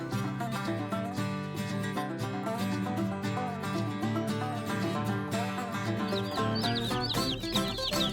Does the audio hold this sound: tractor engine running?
no